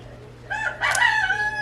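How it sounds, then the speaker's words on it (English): A single rooster crows nearby, a rising then drawn-out harmonic call over quiet background hum. "Oh, here's those roosters."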